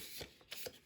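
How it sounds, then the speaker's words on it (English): A paper card being creased with a palm folder: a few soft, quick papery swipes and rustles, close and faint, in an uneven rhythm, ending in a slightly louder scrape. "go with the palm folder"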